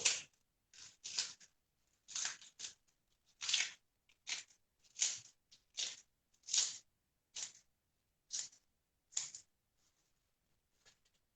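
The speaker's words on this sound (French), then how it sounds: "je vais les couper en petits morceaux" Food is snipped into small pieces with scissors or a blade, making a series of crisp, close crunching cuts in irregular bursts separated by short silences.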